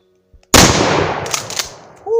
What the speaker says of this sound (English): Shoot some buckshot at the target.